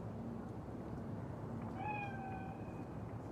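A single faint cat meow rises and trails off over a steady low hum of ambient background noise inside the Cyberpunk 2077 video game.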